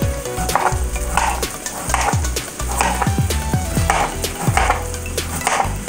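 Onion fries in a pan for oriental-style broccoli, the sizzle broken up by repeated scraping stirs of a wooden utensil at a steady rhythm, close and fairly loud.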